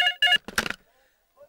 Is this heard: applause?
no